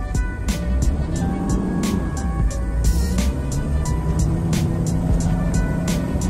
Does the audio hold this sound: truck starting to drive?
yes